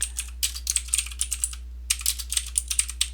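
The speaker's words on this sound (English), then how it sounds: "I'm going to go ahead and type in monthly." Someone types a short word on a computer keyboard while editing an Excel chart title, giving a close, crisp burst of rapid clicking key taps, a brief pause, then a second quick run of keystrokes.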